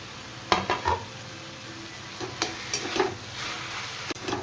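Potatoes and carrots frying in a pan, a low sizzle broken by sharp spatula scrapes and clacks, a cluster near the start and more in the second half, close and moderately loud with no talking.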